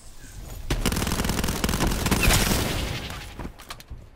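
A Morgue gun in Black Ops 4 fires a sustained rapid burst, close and loud for about three seconds, then trails off into a few scattered final shots.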